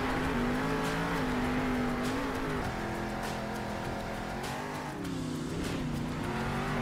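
A monster truck with four-wheel steering drives in the video game Monster Jam Steel Titans, its engine droning and rising in pitch continuously at moderate loudness, with gameplay noise underneath.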